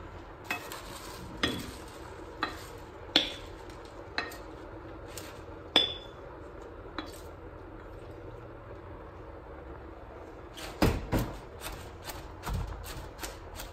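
Fresh spinach tossed into a pan and stirred, a quiet sizzle broken by sharp utensil clicks and scrapes against the pan, spaced apart at first and then a quick cluster near the end.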